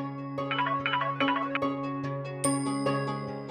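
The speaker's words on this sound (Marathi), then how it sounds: "शालिनी मॅडमचा फोन." A mobile phone ringtone plays indoors, a clear, moderately loud melody of repeating chiming notes with sustained tones, heard alone without speech.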